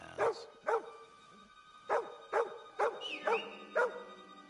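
A dog in the medieval game Kingdom Come: Deliverance 2 barks about seven times in sharp, evenly spaced woofs, loud and near, over a quiet ambient background.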